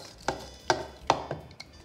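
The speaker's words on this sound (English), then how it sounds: "I'm gonna use sugar, eggs, and I'm gonna whisk it" Sugar and eggs whisked by hand in a bowl for a praline mousseline cream, giving a few sharp, evenly spaced taps and scrapes about every half second, close and fairly quiet.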